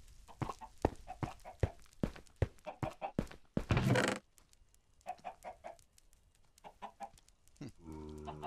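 Minecraft chickens cluck in a quick run of short, sharp calls, pausing briefly mid-clip and then resuming, with a brief squawking burst near the middle and a steady low game hum rising at the end.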